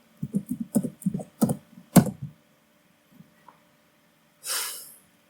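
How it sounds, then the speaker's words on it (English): Keystrokes on a computer keyboard as a username and password are entered, a quick run of close clicks followed by a pause and a soft hiss of breath, with no talk. "So what I want to do is type in my username and then my password."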